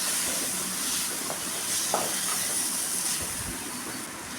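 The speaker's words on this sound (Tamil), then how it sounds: "இது எல்லாமே ஆயிலில் நல்லா வதங்கணும்" Chili powder and chopped tomatoes frying in oil in a pan, a continuous close sizzling hiss throughout with small bursts of spatter.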